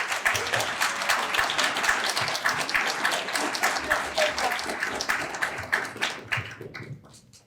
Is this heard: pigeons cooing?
no